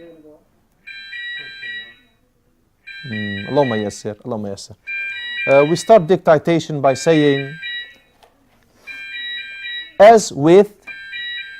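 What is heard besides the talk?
building alarm set off by builders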